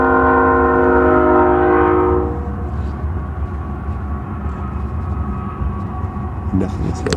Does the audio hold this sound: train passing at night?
yes